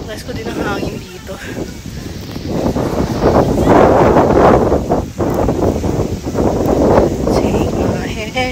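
Wind gusts by the shore in Legazpi, buffeting the microphone in rising and falling surges while people chat over it.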